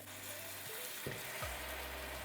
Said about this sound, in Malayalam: 5 കപ്പ് റൈസിന് ഞാൻ 14 കപ്പ് തിളച്ച വെള്ളം ആഡ് ചെയ്യുന്നുണ്ട്.